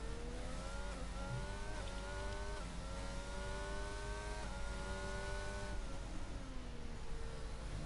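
A race car in a sim racing game launches and pulls hard through the gears on the Jeddah circuit, with a steady rising engine whine and brief dips at each shift, loud and continuous throughout.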